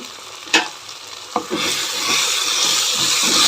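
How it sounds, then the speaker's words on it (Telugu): Okra fry being stirred in a pan, with a couple of sharp scrapes early on before a steady, close sizzle builds and carries on without talk. "ఇప్పుడు కలిపేస్తాను మొత్తం"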